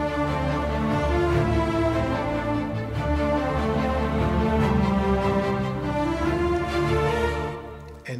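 Cinematic orchestral strings joined by a choir, loud sustained voices and bowed lines swelling over a driving rhythmic string pulse, dense and continuous before cutting off near the end.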